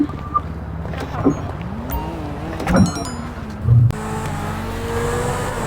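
Car engine from GTA V driving along a road, a steady low drone with brief swells of revving and passing vehicle noise, with some faint game sounds mixed in.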